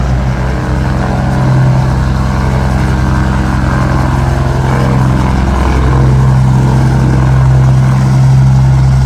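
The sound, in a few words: aircraft at Lincoln Regional Airport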